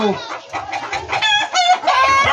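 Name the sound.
pullet hen clucking before laying an egg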